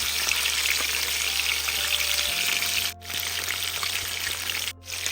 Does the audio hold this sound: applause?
no